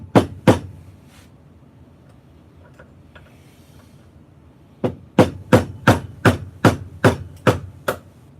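A punch is struck with a hammer to drift the rear sight out of an HK VP9/P30 pistol held in a vise: two sharp metallic blows, a pause, then a steady run of about eight evenly spaced, loud strikes close by.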